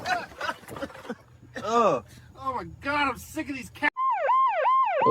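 A police car siren breaks in near the end with a loud, fast-cycling electronic wail that rises and falls several times, following a stretch of animated speech and laughter.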